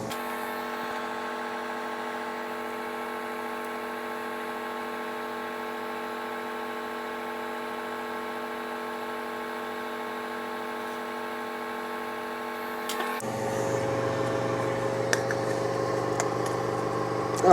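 A Comgrow Z1 10W laser engraver burns into sappy wood at a slow 4 mm per second, giving a steady tonal machine hum that later turns into a busier, buzzier whir with small clicks.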